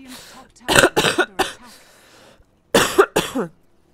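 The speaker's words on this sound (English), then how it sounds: "Coughs." A short burst of several sharp coughs, then a pause and two more coughs, close and loud.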